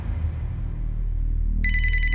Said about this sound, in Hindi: एक फोन आ रहा है,